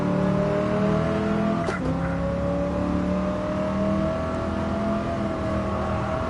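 Race car engine in a video game Porsche Black Series lapping the Nürburgring, holding a steady, droning high-rev tone near the limiter, with a brief shift blip partway through and a constant loud hum throughout.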